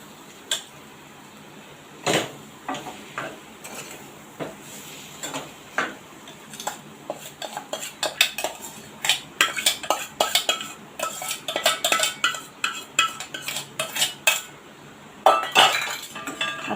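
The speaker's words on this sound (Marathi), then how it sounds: "हे चांगलं परतून घेऊया आधी" Mashed potato being stirred and sautéed in a metal pan with a spoon, a series of sharp clinks and scrapes that start sparse and grow faster and denser toward the end, close and clear with no talking.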